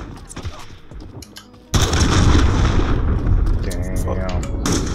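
Enemy cruise missile strike in Modern Warfare: a sudden loud booming impact followed by a sustained roaring rumble of explosions and debris, close and dominant, with a voice heard briefly over it.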